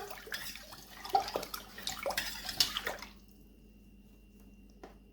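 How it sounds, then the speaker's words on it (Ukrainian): Salt is stirred into water for pickling eggplant, giving a few seconds of sloshing and clinking swirls that stop abruptly, leaving near silence with faint drips. "Перемішую, щоб сіль гарно розчинилася."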